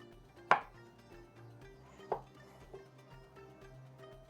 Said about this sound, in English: We're just going to cut up this herbaceous firm tofu from Soyarie brand.